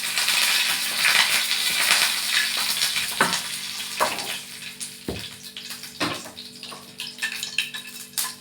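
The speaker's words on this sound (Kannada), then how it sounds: "ಲಾಸ್ಟಲ್ಲಿ ಒಗ್ಗರಣೆ" Mustard seeds fry in hot oil for a tempering in a South Indian kitchen, giving a continuous crackling sizzle broken by several sharp pops and knocks, close and fairly loud.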